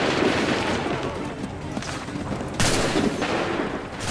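Musket volleys in the video game Assassin's Creed 3 at the Battle at Lexington: a dense, noisy roar of gunfire with several heavier bursts over a loud battlefield din.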